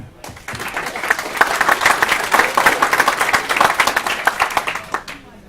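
An audience at an evening event claps for the next speaker being invited up, a dense burst of hand claps that swells quickly, holds steady and then fades after about five seconds.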